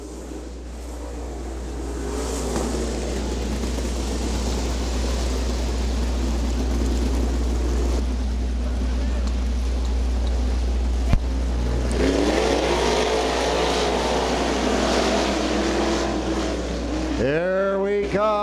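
Outlaw super sprint cars race around the Butler speedway dirt oval, a loud sustained engine drone with rising and falling revs as the pack passes, fading near the end into a sweeping pass-by.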